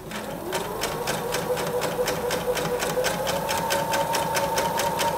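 A sewing machine runs steadily while stitching a lined baby romper. The fast, even, rhythmic whirring of the needle is heard close up and without talk.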